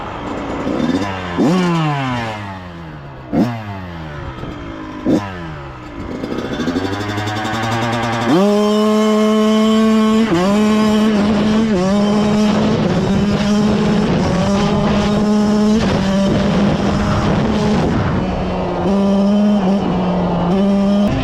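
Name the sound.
Kawasaki KX112 dirt bike revving, rear wheel spinning on soft dirt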